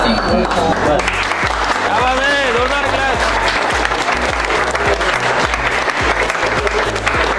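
A classroom of students applauds during a live repair lesson, steady group clapping running throughout over a loud, rhythmic music backing with a voice heard over it.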